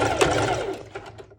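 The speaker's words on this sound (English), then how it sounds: "I'm just doing a straight stitch over this bit" A sewing machine runs a quick straight stitch on a bikini top, a short close whirring burst of rapid needle chatter that fades out after about a second.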